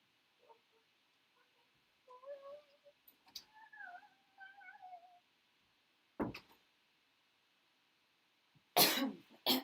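A female house cat meows faintly indoors in a bedroom, wanting to be let out. Several soft, short wavering calls come in a quiet room, with a few sharp knocks or rustles before and after.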